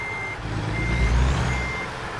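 In American Truck Simulator, a truck reverses with a steady electronic reversing beep over a loud, low engine rumble.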